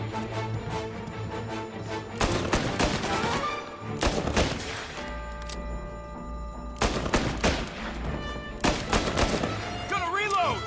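Volleys of gunfire in the game Mafia, several loud bursts spaced a few seconds apart over steady background noise, with shouted voices mixed in.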